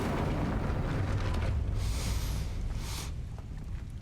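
The Incendio fire spell is cast in Hogwarts Legacy, a loud roaring whoosh of flame over a deep rumbling bed, with two bright bursts of hissing fire close together that fade into a sustained low roar.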